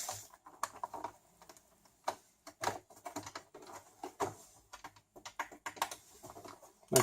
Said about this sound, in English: I can hear the clicking